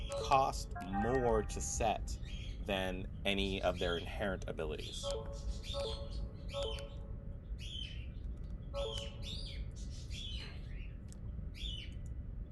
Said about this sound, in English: Sorry for the birds in the background.